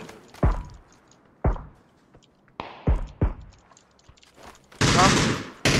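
Gunfire in a video game as a player opens fire: sharp, separate gunshots spaced irregularly, then a loud, dense burst near the end, with players' voices in between.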